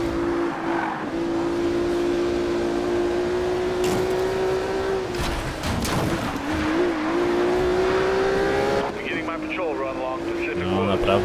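A Ferrari Enzo engine in a racing video game drones steadily with a sustained high-pitched whine, rising in pitch at moments, with tire squeals and a voice speaking over it.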